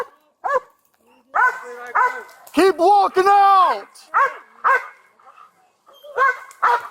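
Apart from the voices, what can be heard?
police K-9 dog barking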